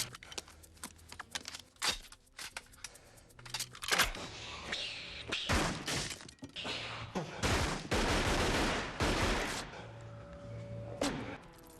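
Guns firing blanks on a film set for a shootout scene, rapid loud bursts of overlapping shots and fusillades, dense and close, with short pauses between volleys.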